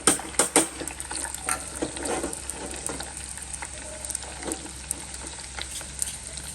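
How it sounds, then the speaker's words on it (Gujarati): Ghee with chili and garlic tempering for dal, a steady crackling sizzle with a few sharp clinks and stirring scrapes near the start, settling into a fainter hiss. "હવે હું છે ને વઘાર કરું છું બીજો ઘીથી. ઘી, મરચું અને લસણથી."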